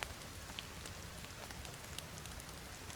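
Steady rain falling in the survival game The Forest, a continuous close hiss of drops with a few sharper ticks scattered through, no voices over it.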